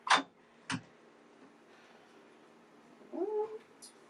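A house cat meows indoors, with two short sharp calls near the start and a longer wavering meow toward the end, all fairly close amid a quiet room.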